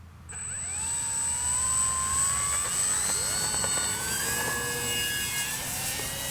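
An X-Fly Spitfire RC warbird model takes off with flaps set, its high electric whine climbing and bending in pitch as it speeds away, loud and steady throughout, with no talking.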